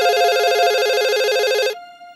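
A telephone rings with a steady electronic warbling tone that stays loud and unbroken for nearly two seconds, then cuts off, leaving a faint lingering hum.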